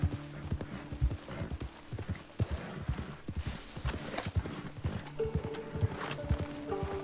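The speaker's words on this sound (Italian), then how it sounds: "Come faccio a salire sul cavallo?" Horse hooves clip-clop steadily along in the open-world western game Red Dead Redemption 2, a close, regular rhythm of hollow knocks with faint tack jingles and a soft snort or whinny partway through.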